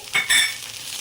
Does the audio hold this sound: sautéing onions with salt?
yes